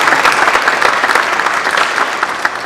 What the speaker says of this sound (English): Help me welcome our candidates who are seated in front of you with applause.